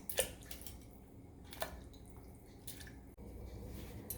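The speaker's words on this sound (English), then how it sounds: "Okay, so here it goes, all the spare rib in the pot." Pork spare ribs are dropped into a pot of water for boiling, making a couple of soft, close splashes and wet plops against a quiet kitchen background with no talking.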